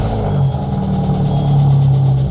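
Engine of a Peugeot 206 rally car, freshly replaced after the old one died, running steadily with a strong low-pitched idle and rev, close and loud with no talk.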